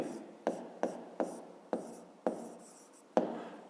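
Pen or pencil scratching across paper while a fifth-grade math solution for a rectangle's area is written out, a close, steady rasp broken by several sharp taps as strokes begin, with no talking.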